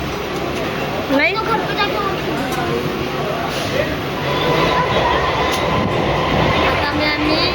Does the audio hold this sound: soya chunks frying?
no